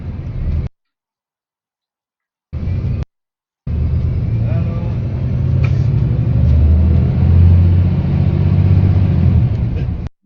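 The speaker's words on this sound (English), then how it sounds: "the main thing you can hear in there is the gear whine" A brand new bus plays back through a speaker, its engine rumble rising under a thin, steady gear whine, broken by short silent gaps before running continuously.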